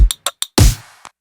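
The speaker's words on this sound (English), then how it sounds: "And then I found these like little spoon hits and just added a bunch of processing." Little spoon hits, heavily processed, make up a synthwave percussion sample: three quick bright clinks, a fuller hit with a short decaying tail, then one last faint tap, all dry and close.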